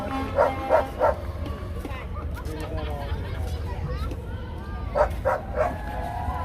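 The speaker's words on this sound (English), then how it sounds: "The dog." A dog barks in two quick sets of three sharp barks at a street protest outside a city hall in Los Angeles, heard at moderate distance over steady crowd babble and murmuring voices.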